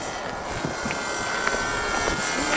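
Small airplane engine droning steadily during a low approach to a runway, a loud continuous hum with slight wavering, no talk.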